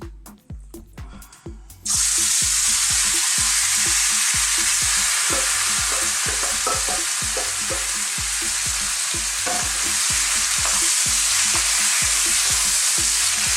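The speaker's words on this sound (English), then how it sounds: "We're going to stir fry this and keep stirring." Marinated pork for a Jamaican chilli pork dish stir-frying over high heat: a loud, steady sizzle kicks in after a brief quieter start, with rhythmic scraping and clacking of stirring running throughout, close up.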